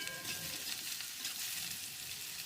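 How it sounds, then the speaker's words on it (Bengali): Sliced vegetables, beans among them, fry steadily in a pan over medium heat, giving a close, even sizzle and crackle with no talking. "এইসব সবজিগুলিকে আমি মিডিয়াম আঁচে হালকা করে ভেজে নেব।"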